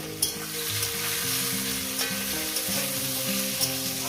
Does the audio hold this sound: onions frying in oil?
yes